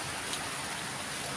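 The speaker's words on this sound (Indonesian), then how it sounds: "Nah, guys, ini lagi hujan loh guys." Steady rain falls outdoors in a garden with flowers, a dense, even hiss of drops close by with no pauses or other sounds.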